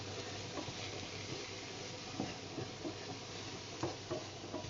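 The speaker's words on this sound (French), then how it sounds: "Ça caramélise les oignons." Onions caramelize in a pan with a faint, steady sizzle and occasional soft scrapes and clicks as they are stirred, quiet and without talking.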